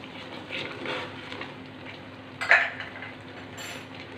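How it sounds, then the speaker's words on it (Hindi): Salt and oregano are stirred into a thickening white sauce in a pot, with quiet stirring and one sharper clink of a utensil against the pan. "अब हमने इसके अंदर 1/2 टीस्पून नमक और 1/2 टीस्पून ही ऑरिगेनो मिक्स करना है"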